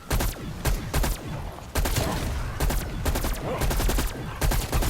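Rapid gunfire bursts from the video game Call of Duty Cold War Zombies crackle in loud, repeated volleys with short pauses between them, heard without talk.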